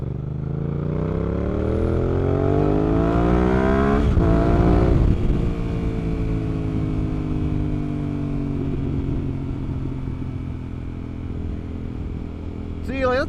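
A 2024 Yamaha R7 sport bike engine revs up loudly through rising harmonics to a peak, then settles into a steady, slowly easing drone as the bike cruises on, close and clear with a voice briefly at the end.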